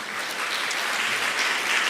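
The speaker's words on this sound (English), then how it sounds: "could everybody give a round of applause?" A crowd claps steadily in a small conference auditorium, dense and even applause that holds its level throughout, with no speech over it.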